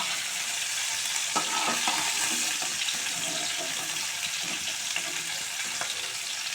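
Rui fish frying in hot oil in a pan, a dense continuous hiss and crackle close by with faint clinks of handling, no talking.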